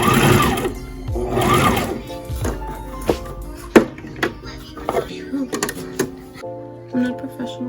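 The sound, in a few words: new sewing machine sewing a seam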